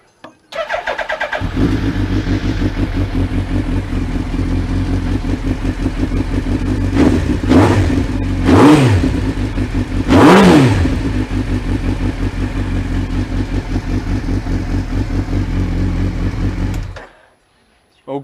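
A Suzuki Hayabusa motorcycle engine idles steadily after a service with new spark plugs and a new air filter, close and loud, with a few throttle blips rising and falling midway before it cuts off.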